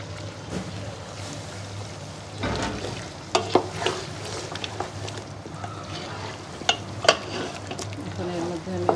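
Potatoes tipped into a pot of simmering spiced gravy for tehari and stirred, with scraping clatter and soft bubbling over a steady low hum, sharp utensil knocks near the middle and end.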